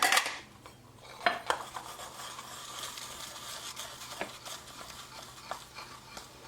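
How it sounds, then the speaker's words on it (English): A spoon scrapes and clinks against a bowl as 1 1/2 cups of blueberries are stirred and coated with a little flour mixture, giving irregular close taps over a soft rustle. "I have 1 1/2 cup of blueberries that I coat with a little bit of"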